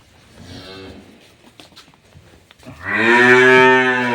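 A cow at a dairy farm selling milk cows and calves in Dinajpur moos twice, a faint low call first and then a louder, drawn-out moo close by.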